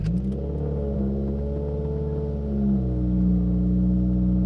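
Engine of a pro-tuned Subaru WRX, loud and close. It rumbles at a steady idle with a slight rise in pitch partway through, heard alone without talk.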